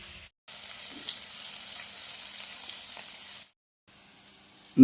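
Finely chopped green chillies sizzle steadily in a generous amount of hot oil with mustard seeds and cumin for North Karnataka girmit, a close, continuous frying hiss broken by two brief silent gaps.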